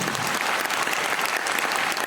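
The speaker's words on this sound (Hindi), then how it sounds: "मैं चाहूंगा इनके लिए जोरदार तालियां" Loud, dense applause from a large audience at a motivational speech event, continuous and steady for about two seconds.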